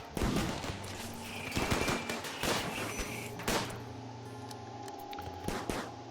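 Gunfire aimed at a ship in the video game RimWorld, rattling off in quick irregular bursts of sharp shots, moderately loud over a low ambient drone.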